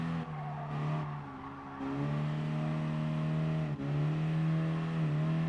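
A Peugeot 208 in Gran Turismo Sport, racing at Willow Springs, holds a steady, droning engine note with gear changes and brief dips, loud and continuous, with a faint tire squeal.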